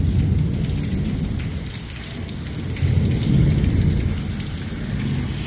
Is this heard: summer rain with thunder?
yes